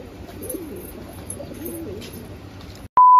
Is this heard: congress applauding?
no